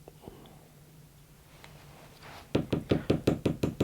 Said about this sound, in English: Just tap on your desk to line the fibres up.